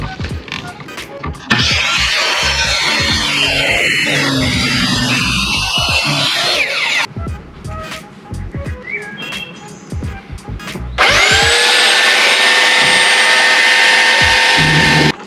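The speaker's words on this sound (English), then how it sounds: "we shaved that little piece of wood down so that we could get the trolling motor clamp on" Power tool shaving down a small piece of wood so a trolling motor clamp fits a Perception kayak, loud grinding bursts starting and stopping, with a steady high whine in the final seconds.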